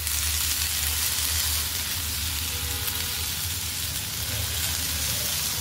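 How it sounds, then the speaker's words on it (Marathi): Grated potato sizzling in hot ghee on a griddle, a loud, dense, continuous crackling hiss close by, steady throughout with no voices. "आता तव्यावर आपलं तूप सुद्धा गरम झालेलं आहे। आता हे टाकूया बटाट्याचा खीस।"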